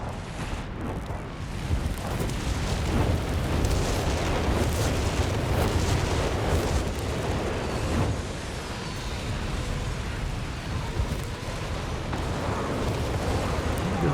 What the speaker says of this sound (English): Ready to fire on that Nebelwerfer, it sounds like.